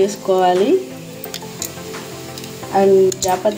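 Bay leaf and mace frying in hot oil for chicken biryani, a steady loud close sizzle throughout, with someone speaking over it at the start and end.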